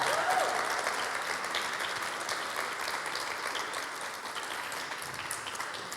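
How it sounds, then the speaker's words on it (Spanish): Sustained applause from a church congregation during a pastor's Sunday message, a dense, steady wash of clapping that fills the room for several seconds and tapers slightly toward the end, with no voices over it. "Denle un aplauso al Señor por eso"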